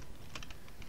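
A few quick, faint keystrokes on a computer keyboard, close and brief.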